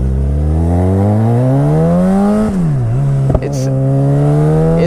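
A sport motorcycle accelerates hard in first gear, its engine note climbing steadily, dipping briefly with a throttle change, then rising again, loud and close throughout.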